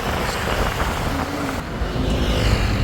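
Busy daytime Bangkok road traffic rumbles close by in a steady, dense wash of engine noise, as vehicles weave through a crowded street.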